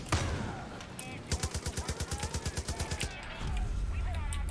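A mounted gun in Far Cry: New Dawn fires a rapid, evenly spaced burst of about sixteen loud shots. Rumbling background noise comes before and after the burst.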